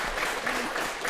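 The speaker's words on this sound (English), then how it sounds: "applause for him." Applause from a church congregation, a short burst of many hands clapping in a dense patter, moderately loud and unbroken.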